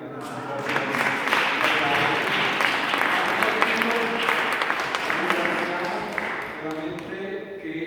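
Audience applause for Silvana at a gathering about a network for older people, steady clapping under a speaking voice, fading toward the end.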